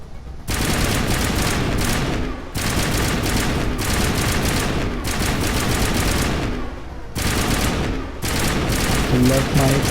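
Rapid bursts of gunfire with explosive rounds in the Mass Effect video game, loud and dense, with brief pauses between sustained volleys.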